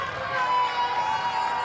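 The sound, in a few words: crowd cheering at football stadium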